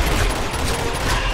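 Gunfire from a weapon in Uncharted 2, a dense, continuous burst of loud shots packed together across the whole moment with no pauses, close and alone without any talking.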